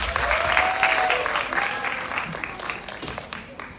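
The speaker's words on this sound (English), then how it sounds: "Let's give a big clap, everybody!" A class audience applauds after a student drama performance of Animal Farm, steady dense clapping throughout that slowly thins toward the end, with faint voices mixed into the crowd.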